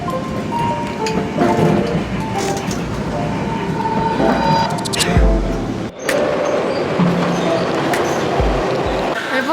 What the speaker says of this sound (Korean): 오늘 왜 이렇게 쓸데없이 열차가 많아?